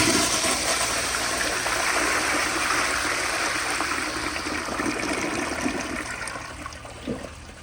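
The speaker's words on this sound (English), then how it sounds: "This toilet has an extremely nice flush, especially on full power." A 1992 Kilgore Argus toilet flushes with its water pressure turned all the way up, giving a loud, steady rushing surge of water that fades slightly as it drains. No one speaks over it.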